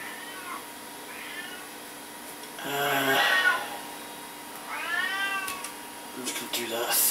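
Pet cat meowing after being fed, several separate meows spread across the stretch, near and fairly loud, with someone talking quietly between them.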